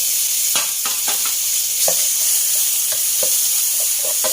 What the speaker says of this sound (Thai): คั่วหมูไปเรื่อยๆนะคะ